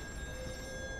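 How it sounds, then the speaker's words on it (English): Telephone ringing inside an offshore oil rig office in the horror video game Still Wakes the Deep, a steady electronic ring sustained through the whole short moment over low background hum. "Oh, phone's ringing."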